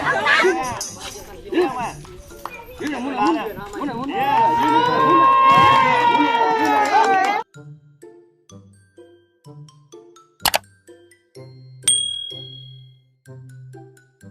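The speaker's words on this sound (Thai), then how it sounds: "ดูเด็กเชียร์" Children in a crowd cheer and shout excitedly at a show of out-of-work elephants, loud and dense for about seven seconds, then it cuts to quieter scattered sounds with a sharp bell-like ding.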